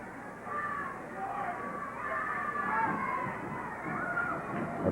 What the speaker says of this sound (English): Crowd wanting to spur Johnson on.